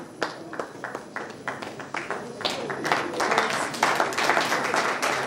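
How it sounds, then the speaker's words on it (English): Audience at a live event claps to welcome guests on stage, a sparse patter of claps building into fuller applause while a host keeps speaking over it. "With a round of applause, can we welcome them on stage real quick?"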